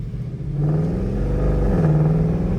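A Mercedes C63 AMG fitted with cheap aftermarket Alibaba headers roars loud and close as it accelerates under its automatic gearbox; its deep engine drone rises steadily, dips briefly at a gear change, then climbs again.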